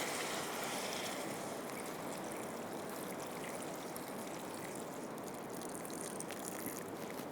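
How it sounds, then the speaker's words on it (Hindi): Water pours steadily into a pot of beef haleem lentils in a kitchen, a continuous close rushing splash lasting throughout with no talk. "ये चले जाएगा इसके अंदर पानी, समझे 1 लीटर के हिसाब से पानी जाएगा"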